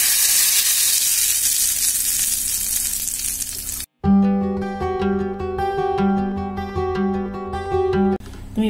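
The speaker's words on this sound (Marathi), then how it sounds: "ही फोडणी यावर टाकूया." Hot oil tempered with cumin sizzles loudly and steadily as it is poured over a coconut and peanut fasting chutney, then cuts off abruptly and gives way to background music.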